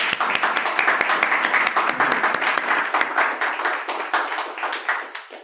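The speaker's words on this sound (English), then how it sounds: "Let's give him another round of applause." Audience applause follows a presentation at a monthly speaker event, a steady, dense round of clapping lasting several seconds at close range and gradually thinning toward the end.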